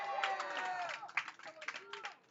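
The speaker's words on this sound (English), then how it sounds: "every guy in the dugout just up on the fence right now, cheering on their teammates" Baseball players cheer and shout from the dugout fence during a tournament game, a busy crowd-like burst of overlapping voices and claps that stays lively throughout.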